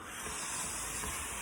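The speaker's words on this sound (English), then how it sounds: "all of that air that's in here is going to get pushed out of the balloon and out through the straw" Air hisses steadily out of an inflated balloon through a straw on a small balloon-powered car, a continuous close, even rushing noise with no break across the short burst.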